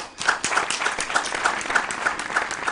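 An audience at a school quiz competition claps steadily in a sustained round of applause, moderately loud and even, with no talk over it.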